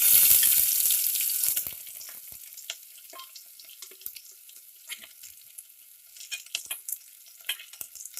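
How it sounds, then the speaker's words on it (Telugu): Onions dropped into hot oil in a kadai give a loud burst of sizzling that quickly settles into a quieter crackle, with scattered pops and stirring clicks and no talking. "ఆయిల్ అనేది వేడెక్కాక ఇందులో ఆనియన్స్ యాడ్ చేసుకోవాలి"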